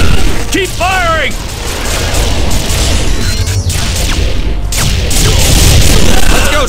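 Sustained gunfire in TimeSplitters Future Perfect, loud repeated shots and crashing impacts in a chaotic firefight, with brief voice sounds early on.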